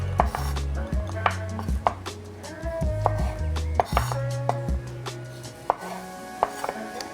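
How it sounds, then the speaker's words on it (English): A knife halves grape tomatoes on a cutting board: a quick run of crisp, irregular chopping taps, fairly close and moderately quiet, with no voices. "I've got some grape tomatoes and I'm gonna cut those in half."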